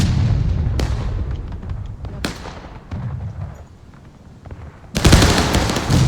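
Confederate artillery guns boom in the video game War of Rights, several sharp blasts with rumbling tails spread across the scene, the last one loudest and sustained, under a faint voice.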